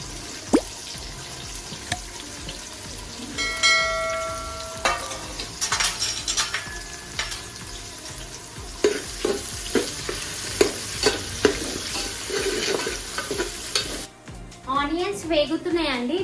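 Spices and onions sizzle steadily in hot oil for mutton paya, with a spoon stirring through the pan and occasional clinks, and a voice talking over the frying.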